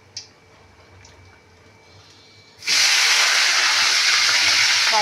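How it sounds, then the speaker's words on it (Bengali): Cumin seeds drop into hot oil in a home kitchen while cabbage is being cooked, and a sudden loud, steady sizzle bursts up after a quiet start with a few faint clicks. "আমি তার জন্য জিরে ফোড়ন দিয়ে দিলাম।"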